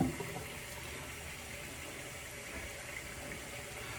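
Water running steadily from a tap as it warms up, a continuous even hiss and splash with no voices.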